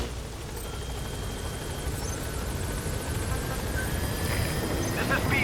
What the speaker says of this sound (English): I'll get the helicopter in.